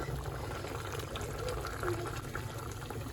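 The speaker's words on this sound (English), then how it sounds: "We're gonna add in some more water actually." Water pours steadily into a pot of cooking Ecuadorian lentils, a continuous filling splash under a busy background hum.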